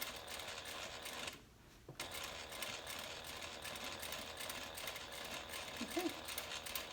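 A sewing machine runs steadily, stitching along the side of an internal zipper on a handbag pocket, a close mechanical whir that stops briefly then resumes, with a few soft clicks near the end.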